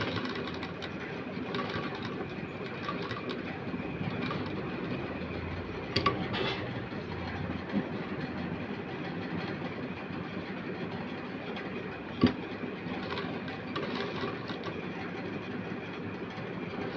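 A sewing machine stitches cutwork embroidery on a long-sleeved blouse, running for the whole stretch with a fast, steady mechanical clatter and a few sharper clicks along the way.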